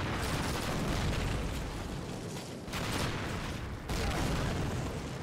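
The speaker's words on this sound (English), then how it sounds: "That's a grenade!" A grenade explosion in Call of Duty, a loud broad blast with rumbling debris that dips briefly and then swells again, continuous heavy noise without talk.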